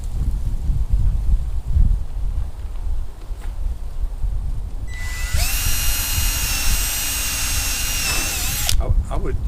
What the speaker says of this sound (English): I would drill the pilot hole even down into this